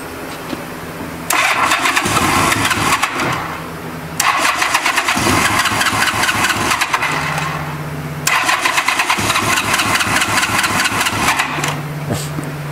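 A 1986 Honda Goldwing GL1200 SE-I motorcycle with a smoking wiring fault cranks and starts three times, each start followed by a rough, loud idle before cutting out, with the whine of the starter between runs.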